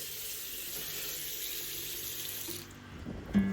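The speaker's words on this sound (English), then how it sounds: "The water just falls directly into the ground and then flows to" Water pours straight onto the floor of a shower with an open ground-drain system and runs off toward the drain, a steady close hiss of falling water that thins out near the end.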